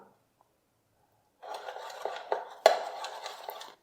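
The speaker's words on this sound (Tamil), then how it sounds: "சேர்த்துருக்க மசாலா எல்லாம் முட்டையோட நல்லா மிக்ஸ் ஆகிடணும்" A spoon mixes masala and raw egg in a bowl to coat chicken pieces for Chicken Manchurian: after a short silence comes a steady, close scraping with several sharp clinks against the bowl.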